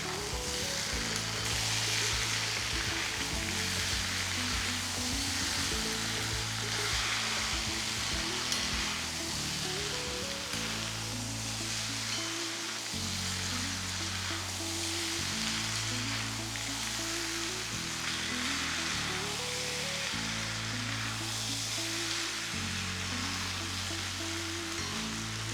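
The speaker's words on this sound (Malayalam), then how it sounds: "ഹൈ ഫ്ലെയിമിൽ 5 മിനിറ്റ് കുക്ക് ചെയ്തെടുക്കാം" Chicken frying over a high flame in oil with onions, a steady loud sizzle running throughout alongside a low, continuous hum of background music.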